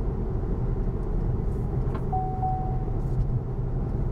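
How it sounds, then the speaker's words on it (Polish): Steady low tyre roar inside the cabin of an Opel Insignia Sports Tourer at city speeds, a constant broadband rumble with no speech, broken only by a faint brief tone midway. "Najbardziej drażni dźwięk opon, który dosyć wyraźnie słychać w kabinie, zwłaszcza przy prędkościach miejskich."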